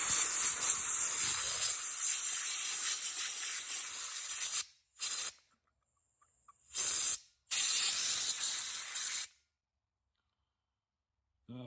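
Compressed air blasts out dust from a CF Moto ATV that has sat unused for three years, coming as a long loud hiss followed by several shorter close bursts with silent gaps between them.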